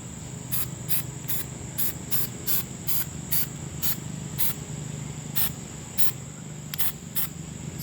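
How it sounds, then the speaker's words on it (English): Steel-It coating sprayed from an aerosol can onto an RC tube chassis, a dozen short sharp hissing bursts in an uneven rhythm over a low steady background hum, close and fairly loud. "you can see how thick this stuff sprays, so you don't need to do a lot"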